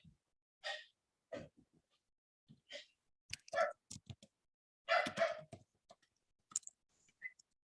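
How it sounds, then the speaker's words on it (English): A dog barks in short, sharp bursts, several spread irregularly across the clip at moderate loudness, with brief gaps of quiet between them and no talking. "Sorry for the dog, everybody."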